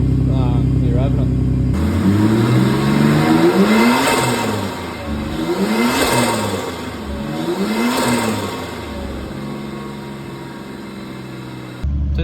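Nissan Patrol fitted with a Barra engine and a bigger turbo revving up and down three times in rising and falling sweeps, loud and close, between steadier idling, with a voice speaking over parts of it.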